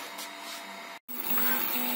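A HyperCube 3D printer prints a test cube in ABS plastic, its stepper motors whirring steadily with a tonal whine that shifts pitch as the head moves, broken by one short gap of silence.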